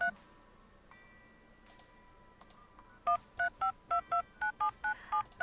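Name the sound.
phone dialing tones in video game The Supper: New Blood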